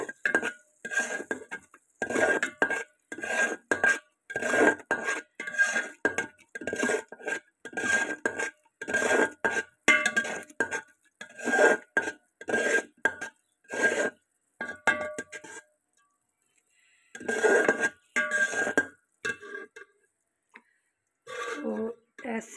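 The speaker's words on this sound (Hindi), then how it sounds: "हम तेज़ी से इसमें चम्मच चला रहे हैं ताकि ये नीचे ना जल ना" A spoon scrapes and clinks quickly against a pot while zarda, a sweet yellow rice dish, is stirred. The strokes are short and rhythmic and come in repeated bursts close up, with a pause near the end.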